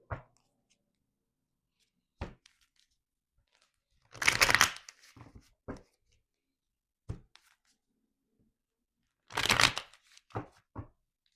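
Tarot cards are shuffled close by in two dense riffling bursts of several seconds each, with scattered single taps and card handling in the quiet between them.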